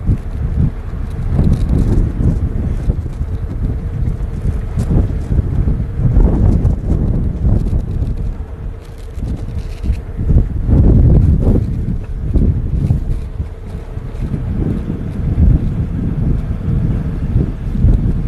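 Wind gusts across an open safari landscape on a blustery day, buffeting the microphone with a steady low roar that swells and dips throughout. No one speaks.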